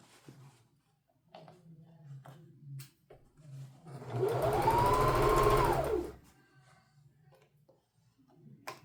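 A sewing machine stitches a robe in one steady burst of about two seconds, its motor whirring and rising then easing off, between quieter handling noises and faint clicks.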